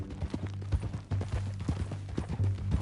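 A horse's hooves clip-clop in an uneven walking rhythm, sharp close knocks over a steady low hum, with no voices over them.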